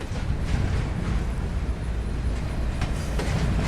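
Train locomotive leaving Port Lock Yard in Norfolk, Virginia, a steady broad rumble with rolling rail noise, fairly close and continuous throughout.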